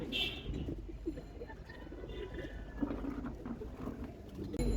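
Pigeons in a breeding loft coo in low, repeated throaty calls, overlapping one another with soft rustling and fluttering around them.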